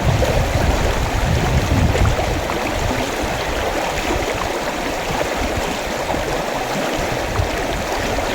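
The strong current of the Moei River rushes in a constant, dense roar, loud and close, with a steady wash of noise throughout and no talking.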